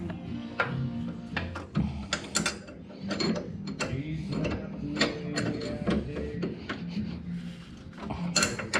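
A wrench works loose the front brake line fitting on a race car, giving a series of close metallic clicks and ratcheting taps with scraping in between.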